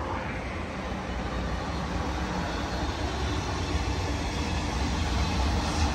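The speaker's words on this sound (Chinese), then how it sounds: "来了来了来了，他又来了，咱的和谐号" A CRH Hexie electric train rushes past with a steady, sustained roar of wheels and air, loud and continuous throughout without talking.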